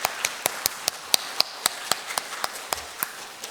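A church congregation at an Easter Sunday service claps in unison, a steady rhythmic beat of sharp, evenly spaced claps at a moderate distance with no talk over it.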